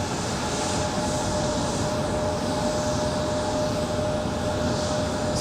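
Copa Airlines jet aircraft departing at Raleigh-Durham International Airport, a steady broadband engine roar filling the whole stretch at constant loudness, with a faint sustained tone over it and no voices.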